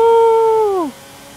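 A car engine in the racing video game Forza Horizon 5 holds a loud, steady, whining drone, then sweeps down in pitch and cuts off abruptly, leaving near-silence.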